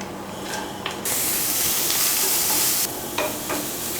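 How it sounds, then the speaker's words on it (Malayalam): Two sliced medium onions sauté in a pan with ginger and garlic, a steady sizzle that swells into a loud, hissing burst for a couple of seconds before settling back, with stirring scrapes throughout. "ഈ സവാള നല്ലതുപോലെ വഴറ്റിയെടുക്കണം കേട്ടോ"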